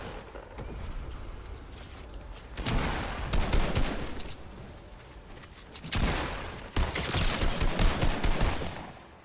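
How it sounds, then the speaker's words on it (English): Rapid bursts of automatic gunfire fired at the player in Fortnite, loud dense volleys in two main clusters with mechanical clicks between them. "They are shooting us from over here."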